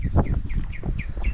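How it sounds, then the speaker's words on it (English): Baby birds chirping on Rosemary Island: a series of short, rising high chirps repeating roughly every fifth of a second, close by over low rumbling background noise. "we're going to check out the little baby birds"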